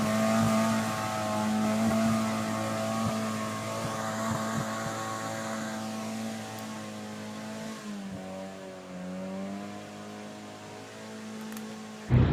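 A Fiat Uno engine drones steadily and rises in pitch twice as it revs, then settles back. It holds a sustained, moderately loud tone with no voices, and ends in a brief sharp burst.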